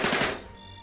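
Gunfire in the video game Forgotten But Unbroken, a short rapid burst of shots crackling loudly then dying into a ringing tail, under a second long, no voices.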